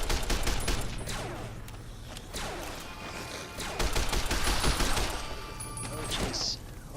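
Bursts of gunfire rattle through a firefight in Fallout's Vault 34, with rapid shots and heavy impacts layered over game ambience and a player's voice.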